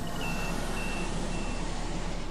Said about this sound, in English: What the hell was that beeping?